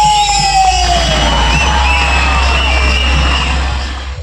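A loud crowd at a Tulunadu tiger dance (pili dance) event cheers and whoops for a celebrity, with piercing whistles sliding over a steady roar of voices that fades slightly at the end.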